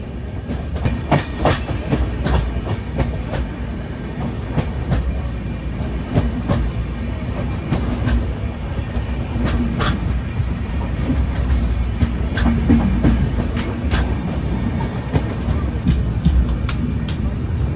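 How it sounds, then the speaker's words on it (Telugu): The Mumbai LTT–Kakinada Port Express, heard from on board after leaving Nadikudi Junction, rumbles steadily along the rails with rhythmic clickety-clack wheel beats and scattered clanks, and voices murmur faintly underneath. "నడికుడి జంక్షన్ నుంచి మన ట్రైన్ అయితే బయలుదేరిపోయింది"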